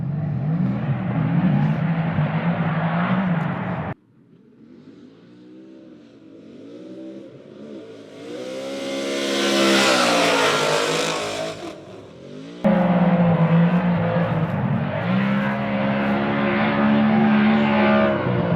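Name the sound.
Ford Mustang RTR cars drifting on a tandem lap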